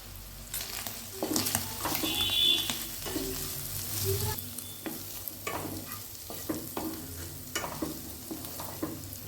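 Turmeric and chili powder fry in a pan as a spatula stirs, with repeated scraping strokes over a steady close sizzle, louder early on and then in rhythmic pushes, for a chicken pizza topping.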